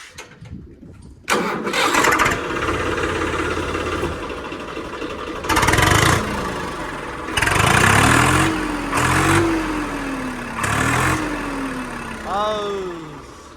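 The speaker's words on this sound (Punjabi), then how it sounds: "ਸਟਾਰਟ ਕਰਕੇ ਦਿਖਾ ਇੱਕ ਵਾਰੀ ਇਹਨੂੰ ਕੋੜਾ ਮੱਫਲ ਲੱਗਿਆ ਵਾ ਬਾਕੀ ਆਵਾਜ਼ ਚੈੱਕ ਕਰੋ ਟਰੈਕਟਰ ਦੀ" A Swaraj 855 tractor fitted with a muffler cranks and starts, then idles with repeated revs and a rumbling exhaust, while people talk nearby.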